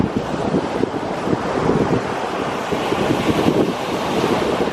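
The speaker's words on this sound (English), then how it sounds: "Here's the ocean." Ocean waves wash onto the beach at Seaside Heights, New Jersey, a steady roaring surf with gusty wind buffeting the microphone, loud and continuous with no voices.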